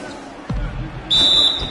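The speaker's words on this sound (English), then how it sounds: "the officials whistle a foul on the shot" A referee's whistle in NBA 2K16 calls a foul on a shot. One loud, shrill blast of about half a second cuts through gym noise and crowd murmur, after a ball bounce on the court.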